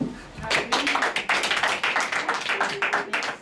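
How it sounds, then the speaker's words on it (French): An audience claps in thanks for a teacher at a school ceremony in Belgium, a busy run of many separate hand claps that swells and stays lively to the end. "Alors, on va encore l'applaudir."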